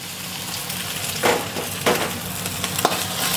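Two eggs fry in a little oil in a wok beside pushed-aside rice for crab fried rice, a low steady sizzle broken by sharp spatula scrapes and knocks against the metal, with no voices.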